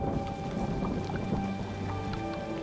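Steady rain falls in a dense, even patter, with a constant wash of drops and no voices.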